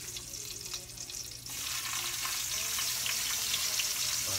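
Browned garlic sizzles in a frying pan, then tomato goes in and the frying turns louder and busier, a continuous crackling hiss for Filipino home cooking.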